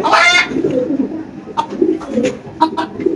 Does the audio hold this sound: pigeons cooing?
yes